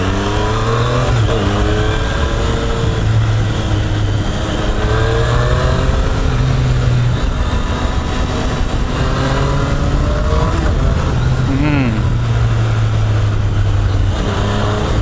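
A Triumph Street Triple motorcycle engine drones steadily at close range while riding in town, pitch rising and falling through gear changes, around 60 km/h in third gear, with constant wind noise.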